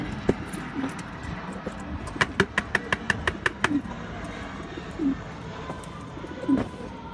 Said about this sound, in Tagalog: At ayan na yung aking mga kalapati na pinakawalan.